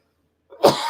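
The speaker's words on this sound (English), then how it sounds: "got to clear my throat here" A single throat clearing, close and fairly loud, following a moment of silence.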